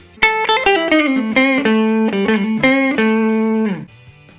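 A clean electric guitar on its neck pickup, with a warm, round tone, plays a short melodic phrase of picked notes, ending on a long held note that fades.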